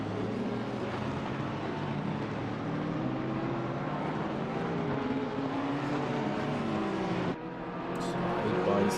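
Racing cars, among them a Bentley GT3 and Porsches, roar past on the Snetterton circuit during a sprint race, with a steady, loud engine drone that swells as they pass and briefly cuts out before a fresh car approaches.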